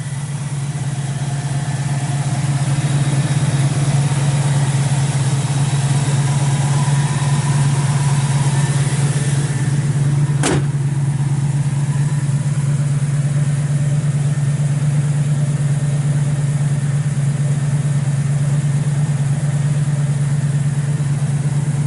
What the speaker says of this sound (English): Good running little motor in this thing.